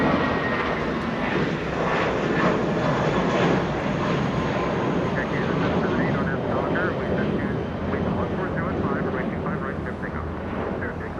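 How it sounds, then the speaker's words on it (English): A Spirit Airlines Airbus A320 departing Los Angeles International for Dallas Fort Worth, a continuous loud jet roar sustained throughout, with someone talking over it. "Spirit Airlines flying to Dallas Fort Worth, A320"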